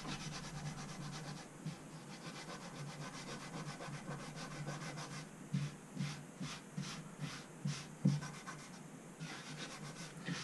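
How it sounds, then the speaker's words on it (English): Wood filler mashed and rubbed into the gaps of a mulberry wood cutting board, a steady close scraping and rubbing with a run of short rhythmic strokes in the second half, no talking. "We're gonna mash that down into the gaps."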